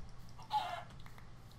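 A chicken clucks once in a Minecraft-style survival game, a short close burst rising over low background game noise, with faint rustling around it.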